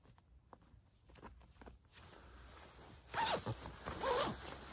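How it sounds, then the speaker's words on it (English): A steel zipper on a quilt is pulled in short bursts, faint at first, then several louder, close zips near the end. "I'm just going to put this zipper down to the bottom here and connect it together"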